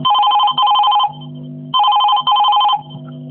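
A telephone rings for a Chhattisgarhi song phone-in programme on Akashvani Raipur radio: two loud double-burst rings, each followed by a lower burring tone, clear and with no talking.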